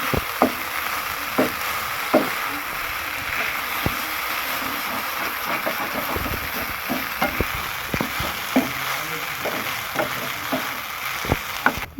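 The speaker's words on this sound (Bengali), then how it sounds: "এবার এটাকে আমরা ভালো করে নেড়ে ছেড়ে ভেজে নেব।" Snack mixture frying in a pan on a gas stove, a steady sizzle with irregular scraping and knocking as a spoon stirs it, close and moderately loud with no talking.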